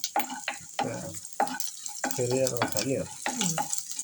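Small shallots frying in oil in a pan for churuli thoran sizzle softly and steadily while a person talks over them throughout.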